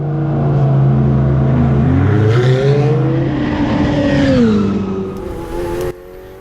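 A Ferrari Challenge race car, a Ferrari 488 Challenge Evo, pulls into the pits on a wet track for a tyre change. Its engine note stays loud and close, rising and falling through gear changes, then cuts off abruptly near the end.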